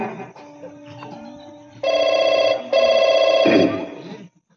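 A telephone bell rings close and loud in two long trilling bursts after a quieter opening, then cuts off abruptly into silence.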